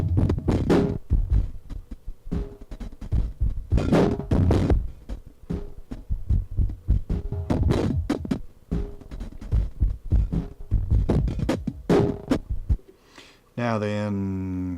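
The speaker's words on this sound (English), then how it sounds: "so I am running a drum loop from the sampler through there" Drum loop from a sampler fed through a BASTL Softpop synthesizer, punchy thudding hits in a steady rhythm with gritty synth coloring, close and fairly loud, ending with a short tonal buzz.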